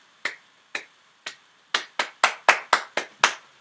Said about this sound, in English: then they brought a clap in